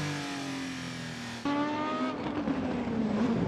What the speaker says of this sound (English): So number 1 car heading back to the pit lane.